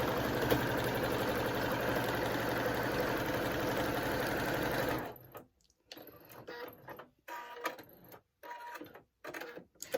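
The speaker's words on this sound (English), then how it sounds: "then we'll just start sewing." A sewing machine stitching a cross-hatch quilt runs in a steady fast stitching rattle for several seconds, then stops and starts in short bursts.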